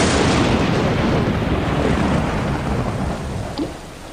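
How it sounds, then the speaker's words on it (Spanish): Heavy rain pours steadily during a thunderstorm, with a dense, loud roar of drops and deep rumbling thunder underneath, fading slightly toward the end. "Las tormentas azotaban los cielos y la lluvia comenzó a caer sobre la superficie rocosa."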